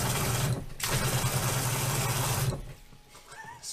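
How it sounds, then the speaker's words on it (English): Shower head spraying water inside a cargo van conversion, a steady broadband rush of pressurised spray that runs loud and continuous for about two and a half seconds, briefly dipping early on, then cuts off to quiet with faint hiss. "That's gonna be a great shower. It's got good pressure."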